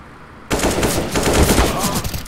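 Rapid automatic gunfire from the CS:GO shooter bursts in after about half a second of near quiet, then keeps going as a dense, loud rattle of shots until the end.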